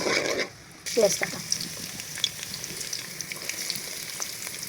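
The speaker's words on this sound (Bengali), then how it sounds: "এবার তেলের মধ্যে দেব তেজপাতা দেব দারচিনি এবার দেব লং আর এলাচগুলো দিয়ে ভালো করে একটু ভেজে নেব" Whole spices—bay leaf, cinnamon, cloves and cardamom—drop into hot oil and start sizzling, a soft hiss rising after a brief pause with occasional light pops and clinks at close range.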